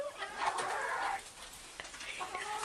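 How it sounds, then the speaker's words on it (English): A regular-size bantam hen clucks softly and intermittently close by, with faint farmyard background noise. "She's about a regular size bantam."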